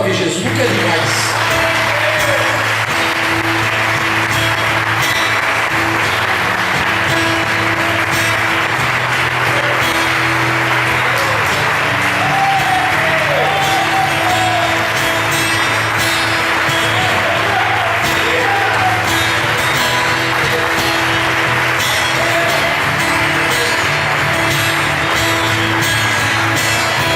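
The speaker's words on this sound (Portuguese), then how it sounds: "Aplauda mais uma vez Jesus, nunca é demais." A church congregation applauding Jesus during a worship service, sustained loud clapping with scattered cheers and voices over a steady musical drone, continuing unbroken throughout.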